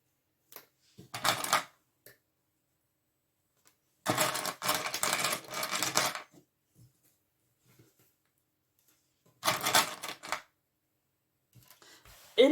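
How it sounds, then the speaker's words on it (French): A sewing machine runs a straight stitch along a 1 cm seam, joining a summer bag's lining face to face; three separate bursts of fast, steady stitching are heard, with quiet pauses between them and no talking. "on vient faire une couture au point droit à 1 cm tout le long"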